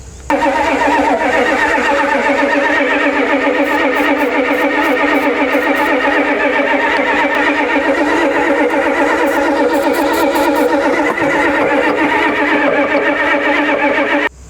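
A bucket truck's engine cranks on starter fluid without catching, a loud, steady, rhythmic churning of the starter that runs unbroken for the whole stretch and stops abruptly at the end.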